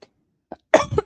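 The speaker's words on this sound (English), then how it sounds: "So sorry for all this coughing." A few short, harsh coughs burst out close up, a tiny one first, then two stronger hacks in quick succession.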